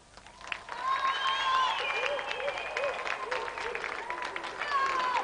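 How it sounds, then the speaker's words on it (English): A TV studio audience applauds a game-show contestant named Aaron, steady broadband clapping that swells and holds for several seconds, with a host's voice and whistle-like tones riding over the top. "Round of applause for Aaron."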